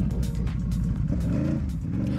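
A Can-Am Renegade 1000 ATV, fitted with aftermarket tires and clutching and the Visco forward lock, runs hard under throttle off-road, a loud close engine roar with a steady low rumble that rises and falls slightly.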